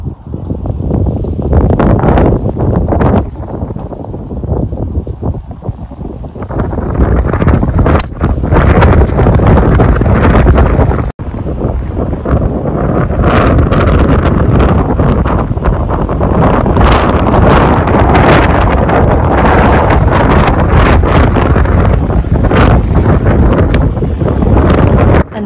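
Strong, roaring wind buffets the microphone throughout on a golf course, a loud continuous rumble with gusty surges and rustling, no voices.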